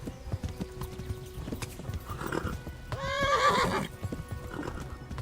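Horse in the medieval video game Kingdom Come: Deliverance, hooves clip-clopping in a steady gallop throughout, with a loud close whinny rising midway.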